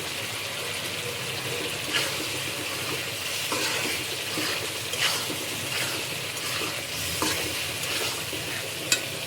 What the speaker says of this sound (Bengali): এখন আমি এর মধ্যে কাঁচামরিচ দিয়ে দিব